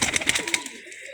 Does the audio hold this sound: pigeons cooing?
yes